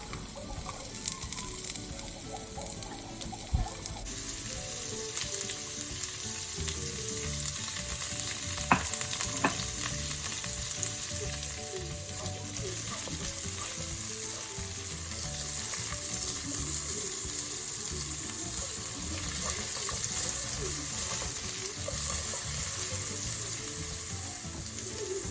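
Carrots for capcay stir-fried in a hot pan, a constant loud sizzle with clattering stirs and tossing, heard up close with no talking.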